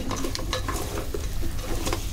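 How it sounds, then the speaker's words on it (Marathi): Crab pieces in Malvani masala being sautéed in a pan, with soft sizzling and repeated stirring and scraping of a spoon against the cookware, close and steady. "छान परतून घेऊया. रंग बदलतो, लाल होतो."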